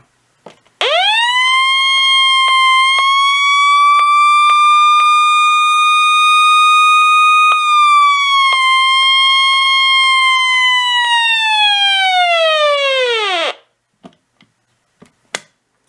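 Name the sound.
radio siren test tone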